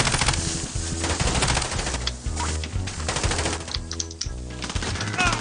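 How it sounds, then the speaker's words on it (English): Rapid automatic bursts from an MP7 submachine gun in a shooter game, close and loud, chattering in quick strings with brief gaps, over a busy game soundscape without voices. "He fucking got me with an MP7"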